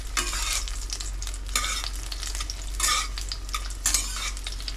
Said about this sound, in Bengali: এটা হালকা ভাজা হলে তারপর আমি পেঁয়াজটা মেশাচ্ছি।